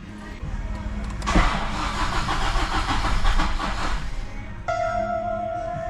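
An old Toyota Hilux Revo engine converted to i-Art injectors cranks with a loud rapid starter churn for a few seconds, then drops to a whine with a steady tone, while people talk nearby.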